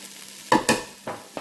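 Frozen snap peas, broccoli and carrots, unthawed, pour onto rice in a pot, making a few short rattling, hissing bursts close by with no talk.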